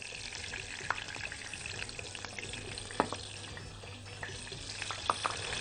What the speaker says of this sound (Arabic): بدات اهي تغلي السمنه يا حبايبي عشان نعمل الطشه الجميله